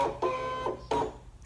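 Brother ScanNCut cutting machine drawing in its cutting mat: close motorized whirring in short, stepped pulses with small mechanical clunks between them, with no talking.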